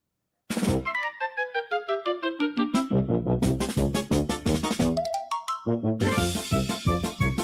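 Jingle-style theme music for the Carousel of Amusing Gerp segment, with bright tinkling melodic notes stepping in a quick, steady rhythm, a short pause, then a fuller rising passage, loud and without talk.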